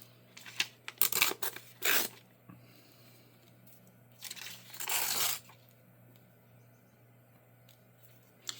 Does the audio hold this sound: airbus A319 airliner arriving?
no